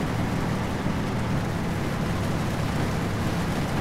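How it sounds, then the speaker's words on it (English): Heavy rain in the trucking game 18 Wheels of Steel: American Long Haul, an unbroken, even roar of downpour with no voices over it. "Jeez, that rain, oh my god."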